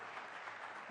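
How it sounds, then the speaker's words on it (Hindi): Audience applause at the News18 Rising Bharat Summit welcoming Nitin Gadkari, a brief steady patter of clapping from a large seated crowd, heard at a distance and fairly faint. "तो जोरदार तालियों के साथ अभिनंदन करिए नितिन गडकरी का।"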